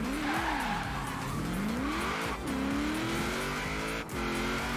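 A race car in a racing video game revs hard through its gears, the engine pitch sweeping up and dropping with each shift while tires squeal continuously, loud and close throughout.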